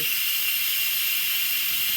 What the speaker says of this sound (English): all of the steam has escaped and there's no more pressure in the pot